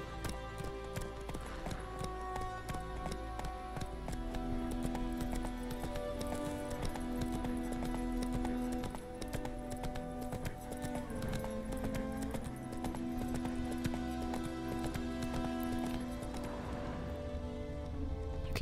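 Roach the horse gallops in The Witcher 3, hooves clip-clopping in a steady rhythm beneath a continuous musical score, with a brief snort or whinny.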